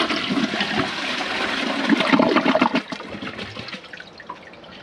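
A toilet's rim rinse runs during a dirt test, a steady rushing flush of water swirling through the bowl from start to finish, fairly close and alone with no talk.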